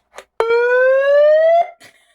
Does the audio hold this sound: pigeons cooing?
no